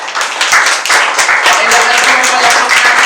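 Congregation clapping for the Lord during an online Filipino gospel service, a steady dense patter of many hands sustained throughout, with speech mixed in.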